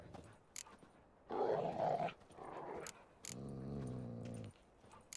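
Dogs in The Witcher 3 growl in low, rumbling bursts, a couple of short snarls followed by a longer sustained growl, fairly close and with no talk over them.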